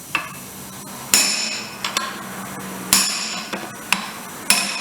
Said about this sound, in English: Ordinary cold chisel is a tool of choice. In this case, we've got a brick chisel.